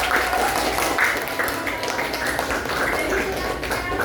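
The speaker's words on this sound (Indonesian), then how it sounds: "Oke, tepuk tangan," A classroom group at a teacher training session claps together in steady, dense applause lasting the whole stretch, loud and roomy, with a bit of indistinct voice mixed in.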